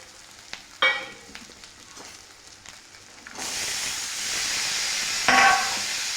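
Vegetables for Bhogichi bhaji go into a pan of fried spices, first with quiet scattered clinks and a brief hiss, then a loud, steady sizzle that swells and holds to the end.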